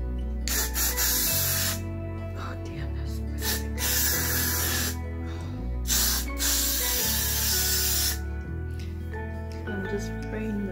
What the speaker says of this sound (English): So I'm just gonna spray this right here.